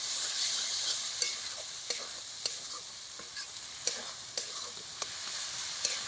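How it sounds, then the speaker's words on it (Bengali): Coconut and poppy seed paste being mixed in a frying pan sizzles continuously, with a spoon scraping and tapping the pan in irregular clicks, close and steady, with no talking. "ভালো করে মিশিয়ে নিচ্ছি।"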